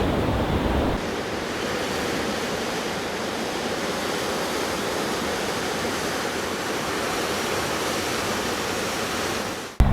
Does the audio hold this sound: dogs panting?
no